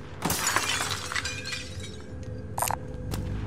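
Enemy body armor shattering in a video game, a bright glassy burst of breaking near the start followed by a smaller crack, over a steady background of game ambience.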